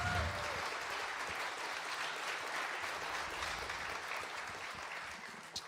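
A crowd at a live country music showcase gives a round of applause, a steady, fairly faint wash of clapping that holds evenly and tapers slightly toward the end.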